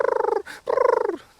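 A human voice imitates a wild turkey purr call with the mouth, giving two rapid rolling fluttery bursts separated by a short breathy gap, close and fairly loud.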